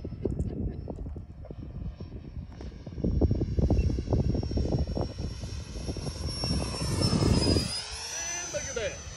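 A radio-controlled Freewing 64mm F-22 model jet flies overhead, its electric ducted-fan whine rising and bending in pitch as it passes, loud and continuous under talking and outdoor noise, then fading toward the end.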